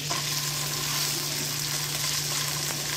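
Oil heating in a pan before a steak is seared, giving an even, continuous sizzle with a low steady hum beneath, close up and alone, no voices.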